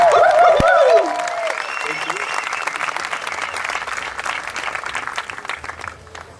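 A festival crowd at Boom Festival's Liminal Village in 2018 breaks into loud, dense applause with a brief voice at the start. The clapping stays sustained and close, then gradually thins toward the end.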